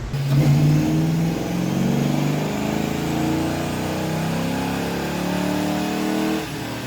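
A 1990s Mustang or Firebird revs on a chassis dyno, its engine note climbing steadily in one long loud pull before cutting off near the end, heard up close with no talking.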